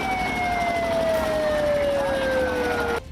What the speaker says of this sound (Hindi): रैली में भीड़ की वजह से वहां से गुजर रही एक एम्बुलेंस को काफी जद्दोजहद